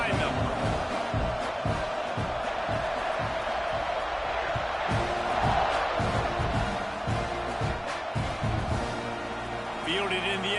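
Stadium crowd roaring before a kickoff in the College Football 26 video game, ASU versus Texas A&M, a constant loud wall of crowd noise with a commentator talking over it.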